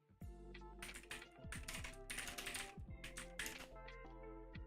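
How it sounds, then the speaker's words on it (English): Computer keyboard typing during a live stream, steady clusters of key clicks close up, layered over a loud tonal music bed with no talk. "You guys can kind of see me typing right here."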